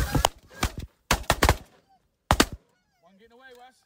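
Ducks calling in loud, close bursts of honking quacks during a duck hunt, arriving in three separate clusters separated by brief pauses, with a fainter, wavering call trailing off at the end.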